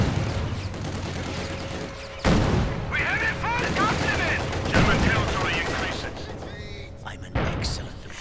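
Gunfire and booms from the Company of Heroes 2 strategy game as vehicles push through thick snow, with rattling bursts and heavy impacts layered under a steady commentator's voice.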